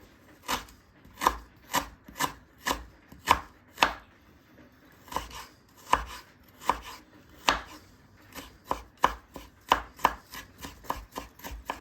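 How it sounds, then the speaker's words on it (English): A knife chops onion, garlic and ginger on a board in quick bursts of sharp, close knocks, pausing briefly midway before resuming a fast steady rhythm, with no talking. "we're going to get an onion, some garlic, and some ginger. And we're going to chop that up into little bits"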